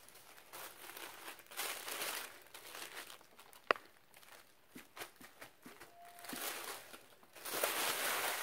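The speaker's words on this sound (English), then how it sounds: "So I'm going to soften this a bit with a piece of tissue paper." Tissue paper is crumpled and dabbed against oil and cold wax paint, producing soft intermittent crinkling and rustling close up, with a sharp tap partway through and no talking.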